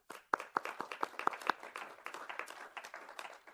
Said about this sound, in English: round of applause to the speakers